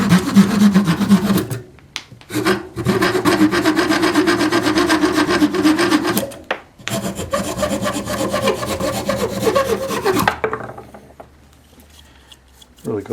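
A Leatherman Wave multi-tool's small saw cuts wood held in a vise, making loud rhythmic back-and-forth rasping strokes close up, pausing briefly twice before the sawing stops near the end.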